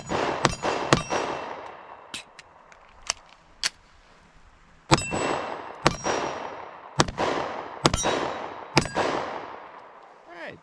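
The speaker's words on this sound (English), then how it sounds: "we'll shoot off a couple here, do a little bit faster mag change" Taurus GX4 pistol fired in quick bursts, sharp loud reports with ringing tails, a pause for a fast magazine change, then another string of shots.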